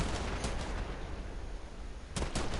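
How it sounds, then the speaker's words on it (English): A Colster weapon in the video game Warframe fires a torpedo that bursts into cluster bombs, heard as a dense, continuous rumble of explosive blasts with a couple of sharper bangs near the end. "It shoots a torpedo. And it turns into cluster bombs."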